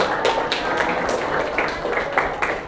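Audience at a university geography teacher-training session clapping after a group presentation, a short burst of several hands clapping in quick uneven taps, moderately close and fairly soft.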